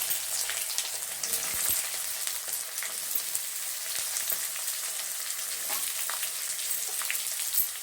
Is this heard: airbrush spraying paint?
no